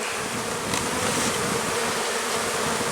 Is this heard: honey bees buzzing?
yes